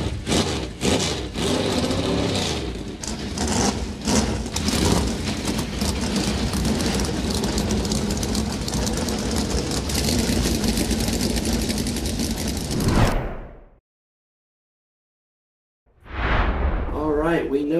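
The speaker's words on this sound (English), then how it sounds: "Drivers, start your engines! The command has been given. Let's crank them up." NASCAR stock cars at Daytona cranking up their engines and idling, a loud, dense, continuous roar lasting about thirteen seconds, then cutting out before a short burst returns.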